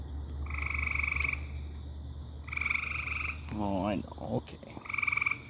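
A pet frog gives repeated bursts of rapid, buzzing croaks at close range, and a person speaks briefly between the calls.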